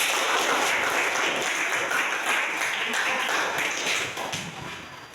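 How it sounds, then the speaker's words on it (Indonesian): Classroom audience in a university teacher-training session claps on cue, a dense burst of hand claps that holds steady and then thins out near the end. "Beri tepuk tangan."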